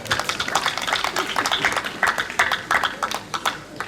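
Hospital staff applaud at Mt. St. Mary Hospital in a steady, moderately loud wash of many claps, with a voice speaking over it.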